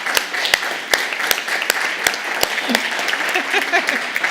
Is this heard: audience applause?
yes